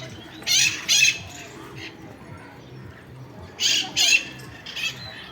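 Harsh, loud squawks from a long-tailed pet bird near water, in two paired bursts with a softer call at the end, while people talk quietly in the background.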